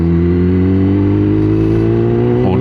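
A motorcycle engine drones steadily at cruising speed during a relaxed ride along fall roads, with a strong low, even hum and a slight shift in pitch near the end.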